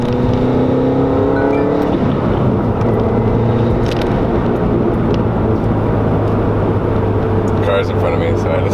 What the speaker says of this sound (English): The car sounds damn good.